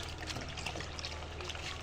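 Salt spooned into a large batch of homemade liquid soap mixed with about four liters of water, giving a steady, close pouring and trickling hiss that runs unbroken and alone.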